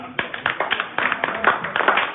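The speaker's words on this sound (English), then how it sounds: "Please give them a round of applause." Audience clapping at a New Year reception, a dense burst of many hands that swells and pulses in uneven waves, close and lively, with a few voices mixed in.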